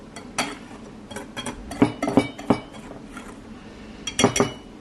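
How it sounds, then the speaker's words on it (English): A whisk clinks against a bowl while dry powder ingredients, including salt or sugar, are mixed together, giving irregular clusters of sharp metallic taps alone without talk. "I'm gonna get a whisk, and I just wanna whisk it all together before I add in the wet ingredients"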